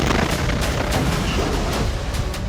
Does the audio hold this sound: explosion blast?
yes